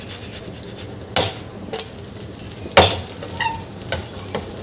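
Sabudana thalipeeth sizzles quietly in a pan as it is flipped, with a steady crackle broken by a few sharp clunks of the spatula against the pan.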